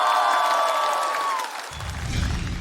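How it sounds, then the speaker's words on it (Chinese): A tonal stage sting fades as a studio audience at a televised stand-up comedy competition breaks into a dense wash of applause and cheering that builds steadily toward the end. "掌声有请"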